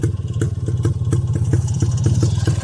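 An IZh Planeta 5 enduro motorcycle engine runs close by with a loud, uneven two-stroke putter and regular sharp clattering beats, heard alone with no talk.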